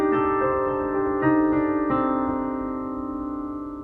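A hemitonic pentatonic scale, whole step then half step then whole step, rings out as a series of sustained pitched notes struck one after another, overlapping and slowly fading, with no talking.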